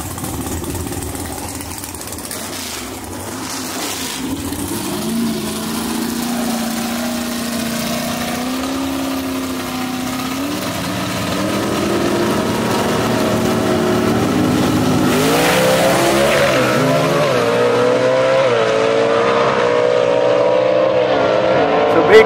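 Gasser drag race cars at a dragway idling and revving, then launching, with engine roar building to a loud sustained rumble and rising gear-change whines, a commentator talking over it.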